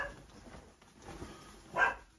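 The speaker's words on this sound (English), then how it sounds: "Apologies for the dog." A dog barks and whines faintly indoors, with soft muffled yips and a short sharper bark near the end, quiet against room noise.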